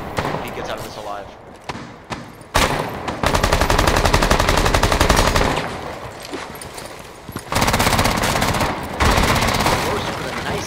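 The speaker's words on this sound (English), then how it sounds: "Taking that with a shotgun." Shotgun and SMG fire in a video game during a collegiate summer league match: loud, rapid bursts of automatic gunfire repeat close up, broken by short pauses, with commentary voices underneath.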